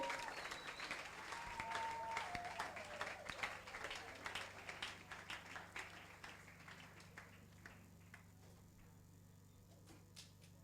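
A church congregation cheers and claps at a Sunday service, a dense wash of applause and shouts that fades over the clip, with speech mixed in.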